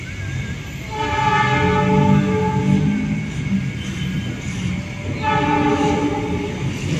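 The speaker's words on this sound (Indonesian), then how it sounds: "Ada kereta melintas." A train rumbles past nearby, its horn sounding in two long blasts over the continuous roar of wheels, beside the Padalarang station construction site.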